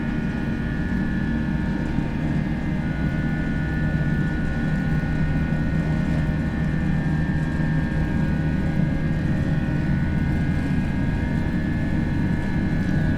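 FSLabs A320 jet engines at takeoff thrust in a flight simulator: a steady, continuous, loud engine roar with a faint whine above it, unchanging throughout.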